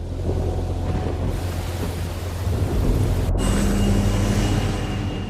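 Thunder from lightning strikes during a summer heat-wave storm over the British Isles, a continuous deep rumbling roar with steady rain-like hiss, swelling slightly midway and sustained throughout, no voices.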